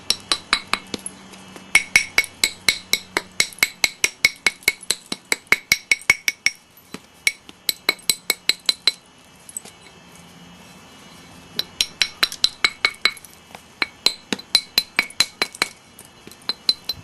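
Freshly knapped stone flakes from making a flint Abo blade are swept off a leather pad, giving bursts of bright, rapid clinks and ticks in quick runs with short pauses between them.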